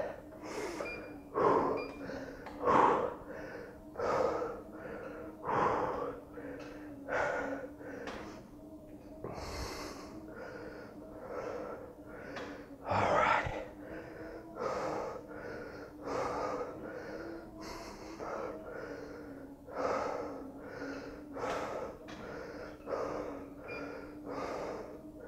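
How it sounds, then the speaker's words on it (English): Heavy breathing follows a recumbent bike sprint in a HIIT workout: deep, rhythmic gasps and exhalations repeat steadily for about 25 seconds, close and fairly loud. "Catch your breath. Breathing deep in through your nose,"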